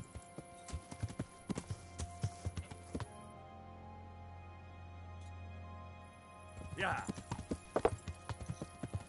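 Horse hooves clop in the video game Kingdom Come: Deliverance in an irregular rhythm, stop for a few seconds of quiet, then resume with a snort; close and fairly loud.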